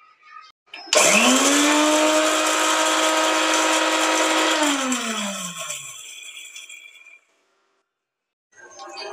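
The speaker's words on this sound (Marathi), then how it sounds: "बडीशेप आणि मेथीदाणा मी भाजून घेतलेला आहे, तो आपल्याला जराशी आबडधोबड बारीक करायचा आहे" A kitchen mixer grinder coarsely grinds roasted fennel and fenugreek seeds, starting with a loud whirring roar that holds steady for several seconds, then winds down and falls silent before a brief restart.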